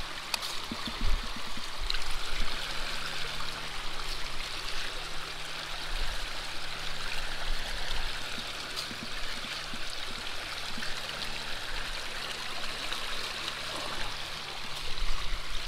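Water rushes steadily through a gold prospecting sluice box on the Kern River, a continuous close, broadband flowing wash with faint low knocks from rocks, no talking.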